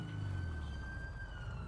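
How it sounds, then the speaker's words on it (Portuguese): A police siren from the video game GTA V wails with a sustained tone over a low engine hum, fairly faint and steady. "Tô escutando sirene, mano."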